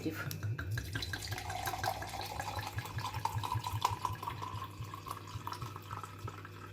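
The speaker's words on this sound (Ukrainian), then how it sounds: "Відміряю червоне вино 250 мл." Dry or semi-dry red wine is poured to measure 250 ml. A continuous close liquid trickle and gurgle runs for several seconds with faint background sounds.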